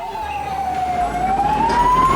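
An ambulance siren wails steadily in a single rising and falling tone, loud and continuous over low road traffic rumble.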